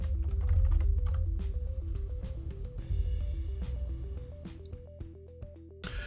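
A PIN is typed on a computer keyboard while a Windows 11 virtual machine is set up, giving a quiet run of rapid key clicks over a steady low hum.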